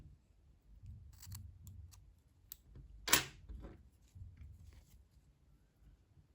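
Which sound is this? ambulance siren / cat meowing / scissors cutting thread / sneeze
scissors cutting thread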